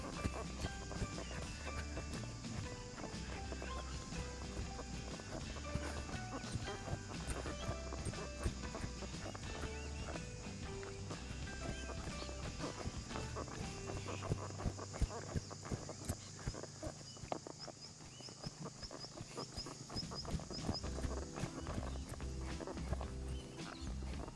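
A young horse ridden out on a loose rein gives a steady clip-clop of hooves at a walk, running under a dense, continuous background of other sound throughout.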